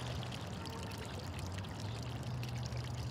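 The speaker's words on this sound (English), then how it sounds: "It's a little redneck boy taking a leak." Steady liquid stream of a boy urinating outdoors, a continuous pouring trickle held at an even level throughout, close and alone with no talk.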